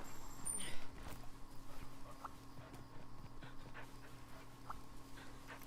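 A companion dog in the Monster Hunter Rise PC demo pants rapidly and steadily at moderate volume over faint background game sounds.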